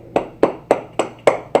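Hands clap six times in a steady, evenly spaced rhythm during a religious class gathering, each clap sharp and close, with no talking between them.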